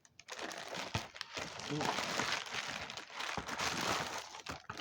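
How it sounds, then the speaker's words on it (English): Crinkling and rustling as a cut envelope package is opened and handled, steady papery crackle close to the microphone over several seconds, with a voice talking over it. "I just cut the envelope open."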